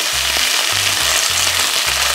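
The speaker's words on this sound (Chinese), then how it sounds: "我现在在爆香的动作， 很像热炒店的味道" Garlic and ginger stir-fry with pebbles in a hot wok. A loud, continuous sizzle runs throughout, with rhythmic low scraping strokes of stones against the pan.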